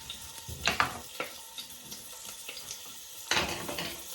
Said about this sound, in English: and I added the onions. As soon as it's starting sizzling